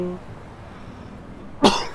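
A person gives a single sharp, close cough near the end, following a brief moment of speech and quiet room tone.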